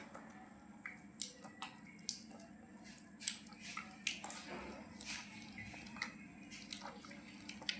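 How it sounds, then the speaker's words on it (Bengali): Banana being mashed by hand for a steamed jackfruit cake batter, a series of soft, close squelching and sticky squishing sounds in irregular rhythm, quiet and alone. "এখন কলাটাকে ভালোভাবে চটকে নেব।"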